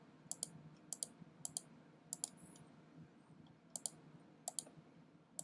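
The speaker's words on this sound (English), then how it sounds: "just a matter of clicking a couple points to add in" Computer mouse clicking repeatedly while adding points to a shape in Photoshop, with crisp, faint clicks in quick pairs spaced through the passage over a soft room hum.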